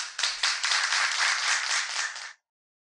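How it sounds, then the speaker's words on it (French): A crowd at a magic show applauds after a trick with loud, dense clapping for about two seconds, then it cuts off abruptly into silence. "Allez, on applaudit très fort."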